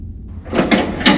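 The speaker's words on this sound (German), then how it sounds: "Oh, die Tür hat sich geöffnet." A door opens in the horror game Garten of Banban 3, giving a short sequence of three scraping, thudding mechanical bursts after a quiet lead-in, close and fairly loud.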